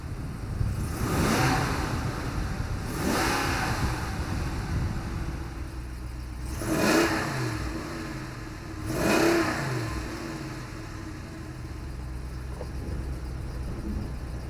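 A 2020 RAM 2500 Power Wagon pickup's 6.4-liter V8 runs steadily, then revs and accelerates in two distinct surges, the pitch climbing and falling each time before settling back to a rumble.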